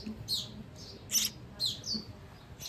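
A baby sparrow chirps in short, high, bright calls, repeating every half second or so close by over a low background hum.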